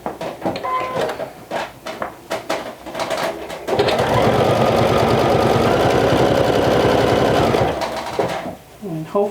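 A sewing machine top stitches a vintage jumper in one sustained run of about five seconds, loud and close, after some light handling clatter and brief talk, then slows to a stop.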